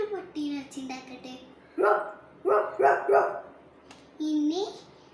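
A person mimics a big dog with their voice, making low grumbling sounds and then several deep, punchy woofs in separate bursts, close and fairly loud.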